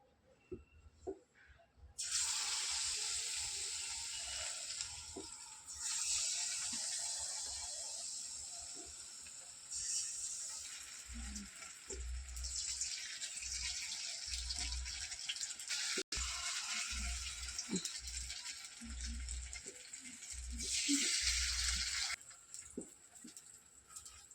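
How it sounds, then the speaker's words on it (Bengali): Jute leaves in batter fry in hot oil in a home kitchen, a steady bright sizzle and hiss that runs on for long stretches and swells and fades now and then, with a few faint clinks and low bumps beneath. "দেখো মেয়ে এখন পাট ভাজাটা করছে।"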